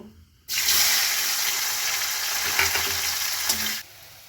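Dry red chillies and black cumin (kalo jeere) sizzle in hot oil as a tempering, a dense, steady crackling hiss that starts abruptly, holds close and loud for about three seconds, then cuts off.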